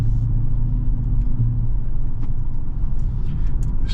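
A 2023 Dodge Challenger R/T with the T/A package rolls over bumpy back roads, its steady low engine and road rumble filling the cabin with occasional small knocks and no talking.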